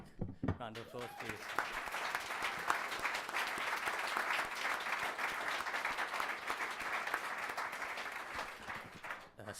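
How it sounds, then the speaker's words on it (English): A crowd at a sports coaching awards ceremony breaks into loud, sustained applause after a brief spoken line, the clapping swelling and continuing until near the end. "Callum needs a big round of applause, please"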